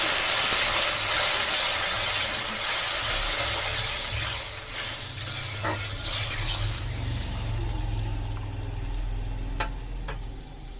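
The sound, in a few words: water added to hot fried spice paste in a pan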